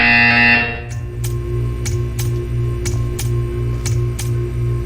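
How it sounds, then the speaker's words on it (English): Repeated electronic buzzer from the video game Portal 2, a test-chamber cue sounding as a steady tone with several sharp ticking clicks spaced through it after a louder opening burst. "You will hear a buzzer. When you hear the buzzer, stare at the art."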